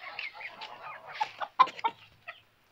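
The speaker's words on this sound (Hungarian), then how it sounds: "Ő a tyúkja." A hen clucking up close in a short run of quick, sharp clucks and squawks against quiet surroundings.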